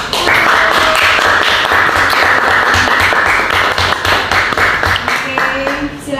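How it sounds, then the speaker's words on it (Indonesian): A classroom group gives applause after a group presentation: loud, dense clapping from many hands fills the room, holding steady for several seconds before easing slightly at the end. "Oke, tepuk tangan dulu buat kelompok."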